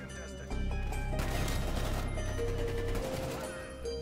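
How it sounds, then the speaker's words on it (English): Gunfire in Black Ops Cold War during a 3v3 Hardpoint scrim match, with rapid weapon shots and crashes layered under excited player chatter across the whole stretch. "Are you shooting me"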